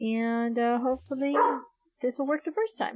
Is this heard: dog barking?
yes